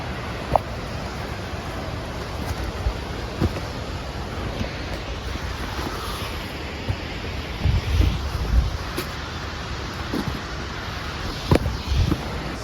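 A steady, broad rush of a waterfall near Manali roars continuously, with occasional faint knocks and bumps nearby and no talking.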